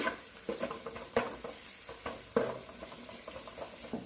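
Chopped green chillies fry in a pan for a Bengali chicken kosha, a soft continuous sizzle broken by several distinct spatula scrapes and stirring knocks, close up with no voices.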